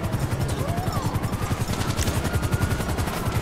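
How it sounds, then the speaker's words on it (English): A helicopter's rotor thumps in a rapid, steady pulse during a casino heist video game, loud and close, with faint gunfire mixed in. "Helicopter shooting at me."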